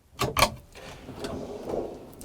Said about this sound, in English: we've got a really big, well, super-sized drawer, which will hold my coffee machine with ease. All the drawers are soft close.